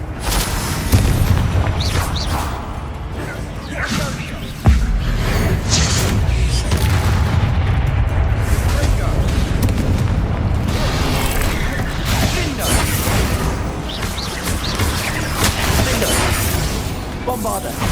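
Spell blasts from Bombarda and Confringo in the Hogwarts Legacy video game boom and crackle continuously through a dense, loud combat mix, with a sharp hit near five seconds and voices calling out over the din.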